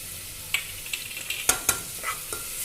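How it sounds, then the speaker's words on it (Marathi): Onion sautéing in a pan with crushed garlic for a masoor dal curry: soft sizzle under a series of sharp spoon scrapes and taps against the pan, close and without talk. "कांदा छान मऊ असतो परतून घ्यायचा आहे आता त्याच्यामध्ये आपण लसूण टाकूया ठेचलेला"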